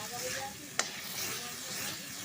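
Chopped taro leaves sizzle steadily as they fry dry in a pan, with a spatula stirring through them and one sharp scrape of metal against the pan partway through.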